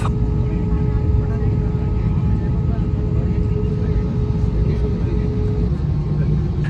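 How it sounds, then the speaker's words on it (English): Inside a Nepal Airlines A320 taxiing toward the runway at Mumbai, a heavy, constant cabin drone of engines and airflow holds steady throughout, with a faint sustained whine riding above the low rumble. "Now the plane has got clearance for takeoff and now moving towards the runway for takeoff"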